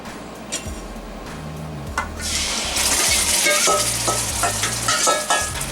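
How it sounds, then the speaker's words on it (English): Beef kabob marinade for East African mishkaki poured into hot oil, a loud sizzle swelling up after about two seconds with stirring scrapes and clinks over a steady frying hiss. "The oil is now hot, and I'm going to put the marinade in it."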